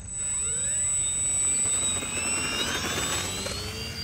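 A model F4U-4 Corsair airplane taking off on a cool morning, its engine a steady, loud high-pitched whine with a rising tone throughout.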